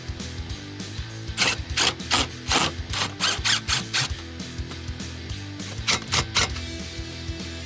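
Self-tapping screws driven into a QuickStep stair system with a drill and bit extender, a run of close ratcheting, whirring bursts in quick succession with short gaps between them.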